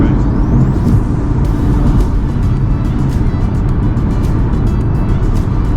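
A car hogging lane 3 on the M3 motorway heading toward London, its passing blending into steady, loud broadband road and engine roar that persists throughout.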